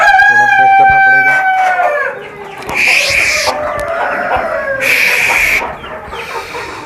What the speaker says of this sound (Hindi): ये मुर्गे जो हैं ये फाइट पे लगे हुए हैं